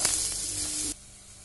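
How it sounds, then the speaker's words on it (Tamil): Onions sautéing with a pinch of salt in a pan, a steady close sizzle and hiss that cuts off abruptly near the end, leaving only faint room noise. "வெங்காயம் வதங்கிறதுக்கு கொஞ்சமாக உப்பு ஆட் பண்ணிக்கலாம்."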